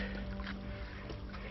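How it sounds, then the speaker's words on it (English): A small creek flows over sheer rock on a steep mountain trail up Mount Colden, a steady close rushing and trickling wash of water filling the short moment without a break. "pretty much just a small creek bed flowing"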